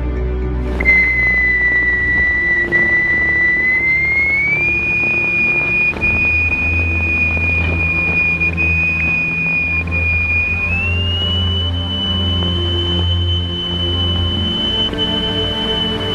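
A pure electronic tone driving a vibrating cymatics plate sounds as a thin, whistle-like pitch that steps higher twice, sustained over a faint low rumble and scattered small noises, with no speech.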